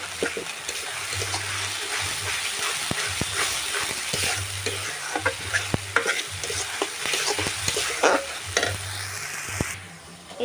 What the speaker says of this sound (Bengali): এবার আমি ভালো করে মশলাটাকে একটু ভেজে নেব